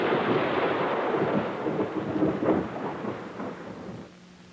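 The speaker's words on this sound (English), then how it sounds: "When lightning is 1 kilometer away, you hear thunder in 3 seconds." Thunder from a nearby storm, a loud deep rolling rumble that swells and keeps churning for several seconds before fading, with no voices.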